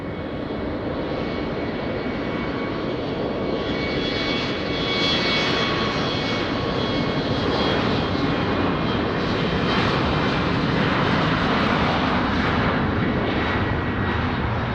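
An airliner takes off at Lisbon Airport, its engines a broad, constant roar that swells slightly and stays loud throughout, heard from some distance with no voices.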